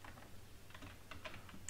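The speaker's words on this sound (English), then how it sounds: "services.msc and press enter from your keyboard" A computer keyboard is typed on while a command is entered on a Windows 10 PC: faint, scattered keystroke clicks, some single and some in quick bursts, with no voice.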